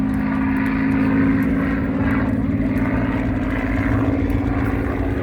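A Supermarine Spitfire Mk IX piston-engine fighter at an airshow flying display gives a steady, loud droning engine roar that holds throughout with slight swells, no voices over it.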